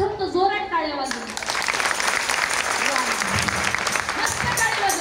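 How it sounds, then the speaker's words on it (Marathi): A kirtan audience bursts into loud, sustained applause after a voice speaks over it, the clapping filling the hall. "प्रथम तो जोरात टाळ्या वाजवून"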